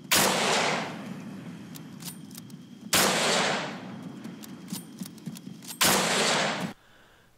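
Lee Enfield Mk III rifle shots in the Breaking Point video game, three loud, sharp booms spaced about three seconds apart, each with a long rumbling tail.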